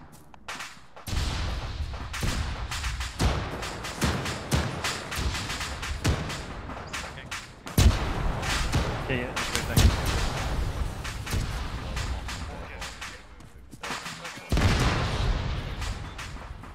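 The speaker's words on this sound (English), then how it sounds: "Don't move towards the exploding building." A building explodes in Arma 3 amid a military raid, heavy booming thuds and blasts rolling over one another, with rapid gunfire cracks and secondary detonations following the first blast.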